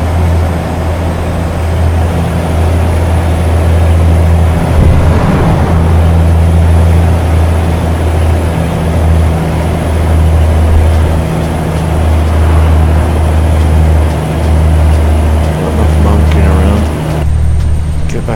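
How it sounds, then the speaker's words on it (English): A jet passes in American Truck Simulator, a sustained loud whoosh over a steady low truck engine drone that carries on throughout. "Just sounded like a jet going past."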